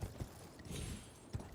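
The player's horse mount in a video game trots along, its hooves clip-clopping in a soft, irregular rhythm with a few heavier thuds, fairly quiet and close, with no talking over it.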